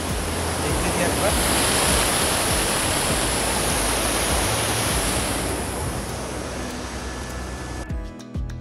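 Shivkhola waterfall in Darjeeling district pours steadily down into a pool, a loud continuous rush of falling water that holds even throughout and cuts off abruptly near the end.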